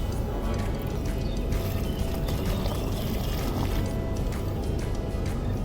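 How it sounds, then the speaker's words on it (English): A homogeneous wet mixture poured into a wall cavity during a Stoock installation, a steady sloshing, gurgling pour that runs unbroken and close throughout. "put this homogeneous soup inside the wall without the sensor yet"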